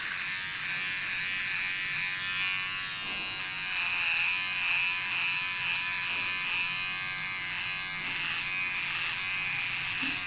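A Vintage T9 electric hair trimmer hums steadily and continuously at close range, its high whine broad and bright with slight wavering in tone, running alone without talk.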